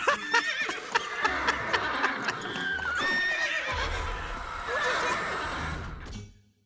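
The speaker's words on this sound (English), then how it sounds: "Watch us literally get kicked in the face by a horse." A horse in the video game Limbus Company whinnies loudly with hoof clip-clops, followed by a longer neigh, under a man's chuckling and brief talk, then cuts off.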